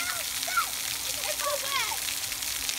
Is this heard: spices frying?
no